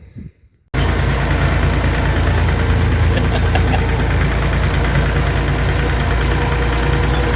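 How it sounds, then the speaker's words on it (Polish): A tractor engine idles steadily and loud, a dense continuous rumble that kicks in abruptly after a brief quiet start, during oat silage bale collection and wrapping on a farm. "Przyjechał traktor, będziemy ładować te bale."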